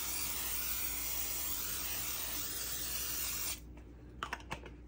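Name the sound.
spraying cooking spray on a baking tray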